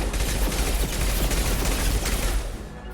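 Dense, continuous gunfire from a Mass Effect 2 firefight, loud and close, with overlapping shots and booms filling the whole stretch before easing slightly at the end.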